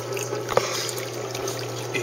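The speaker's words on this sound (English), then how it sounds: "here you can see it's flowing really good. The water level is now much higher up above the glass." Water flows steadily into a tank through a clear bell siphon, a continuous close trickling and gurgling stream.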